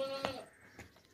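A castrated two-tooth sacrificial goat gives a short nasal bleat, faint and close, followed by a second softer bleat.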